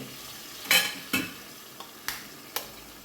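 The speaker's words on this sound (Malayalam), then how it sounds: "ഞാനൊരു മൂന്ന് മുട്ട ഇടുന്നുണ്ട്" Eggs cooking in a pan for a drumstick-leaf egg thoran, with five sharp scraping stirs against the pan at irregular intervals over a faint frying sizzle, close by and with no speech.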